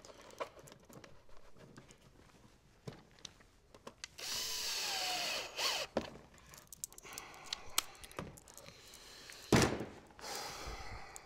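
A power drill drives screws into a wooden baby jumper frame, with one sustained, fairly loud whirring burst midway, surrounded by scattered clicks, knocks and handling noises and a sharp clatter near the end; no one speaks.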